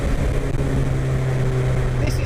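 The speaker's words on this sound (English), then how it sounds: "This is a superbike engine car, and I've got to say, it don't hang about." MK Indy RR kit car powered by a Hayabusa superbike engine driving on a test run, a loud steady engine drone heard from on board with wind rush, sustained throughout.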